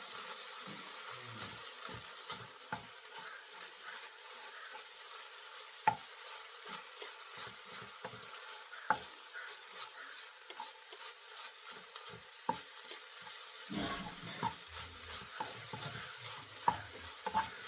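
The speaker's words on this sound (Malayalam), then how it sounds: "ഇനി ഇതിലേക്ക് നമ്മൾ നേരത്തെ അരച്ച് വെച്ച തേങ്ങയുടെ അരപ്പ് ചേർത്ത് കൊടുക്കാം. നന്നായി ഇളക്കി കൊടുക്കുക." Ground coconut paste being stirred into a drumstick flower thoran in a pan, a steady scraping stir over a soft sizzle with occasional sharp clicks of the spoon against the pan, no talking.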